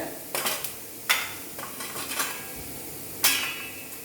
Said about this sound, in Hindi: 30 या 40 सेकेंड तक आप इसको ऐसे मिक्स कर लीजिए।